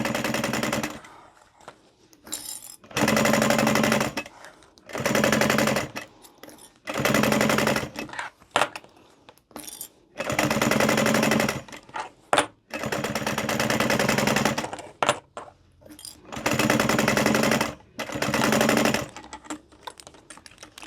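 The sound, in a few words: sewing machine stitching edge of DIY lanyard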